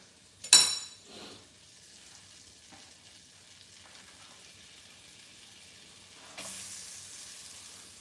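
Onions dropped into a frying pan with melted butter give a sharp burst, then a faint, steady sizzle that swells again near the end, with no talking.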